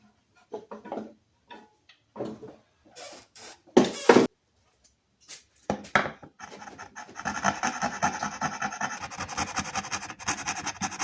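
Close, intermittent scraping and rasping as wood is carved out for a hinge recess on an antique Mossberg socket set case, short strokes at first, then a longer steady stretch of rubbing near the end.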